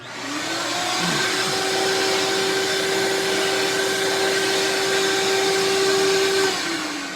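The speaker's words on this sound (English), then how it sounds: "without moving the shop vac, aka wet dry vacuum cleaner" A wet/dry shop vacuum whirs up, runs with a loud steady roar and a droning tone, then winds down near the end.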